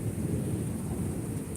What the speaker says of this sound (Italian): Poi specialmente quando cadono i fulmini proprio senti il rumore proprio.